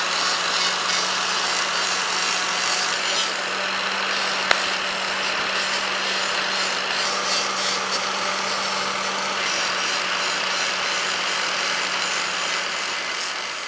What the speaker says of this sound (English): So what we need to do is gently trim this little lip at the bottom and the top.